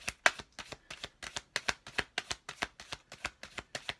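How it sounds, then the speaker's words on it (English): Tarot cards being shuffled by hand up close, a quick steady run of crisp riffling slaps and flutters repeating about every quarter second, with no talk. "if you like ASMR videos, you'll find this soothing, me shuffling"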